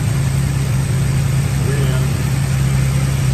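A classic muscle car with hideaway headlights and a new carburetor idles smoothly, a steady low rumble with constant hum, close and loud, alone without talk.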